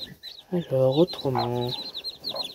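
A newborn chick, hatched that morning and likely of a feather-footed hen, peeps in a few short high chirps close by while someone speaks quietly.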